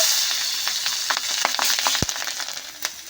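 Black cumin and dry chillies sizzle in hot fish oil, a bright crackling spit with scattered sharp pops and a spoon knocking once against the pan.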